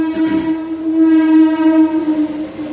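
Passenger train No. 20967 running on the Secunderabad–Ahmedabad route near Ankleshwar Junction, a steady sustained horn-like tone over rumbling rail noise, moderately loud with no talk.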